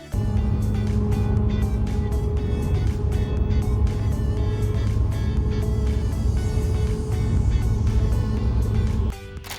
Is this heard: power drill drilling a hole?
no